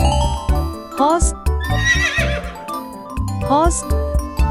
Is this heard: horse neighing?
yes